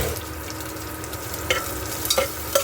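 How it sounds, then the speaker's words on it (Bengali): Continuous sizzling of ginger and garlic stir-frying in a hot pan, broken by several short spatula scrapes and clinks as it is stirred; no talking. "এই যে সব দিয়ে নাড়াচাড়া ভাজা করছি"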